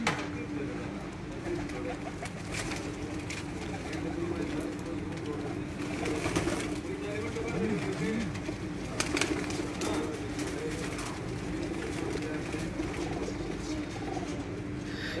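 Low pigeon coos murmur through a busy, noisy background with people talking nearby.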